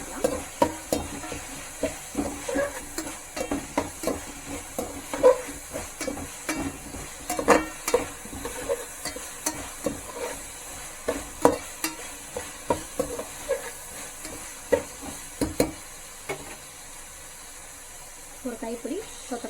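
Handful of mint stirred and fried in oil in a pan for vegetable pulao: repeated scraping spoon strokes and clatter over a steady sizzle, close and fairly loud, with a voice speaking intermittently.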